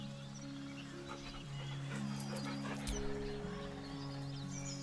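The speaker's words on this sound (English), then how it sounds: "The dog whimpers nervously," Dog whimpering in the fantasy role-playing game Baldur's Gate 3, soft whines and yips over a sustained tonal music bed, moderately quiet and with no talking.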